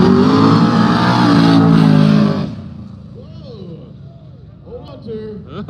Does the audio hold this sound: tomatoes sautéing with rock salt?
no